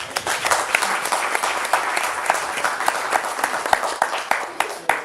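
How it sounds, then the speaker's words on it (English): An audience at a youth dialogue event on artificial intelligence breaks into sustained applause, dense overlapping claps with sharper individual hits standing out, fairly loud and continuous with no speech over it. "Another round of applause, please."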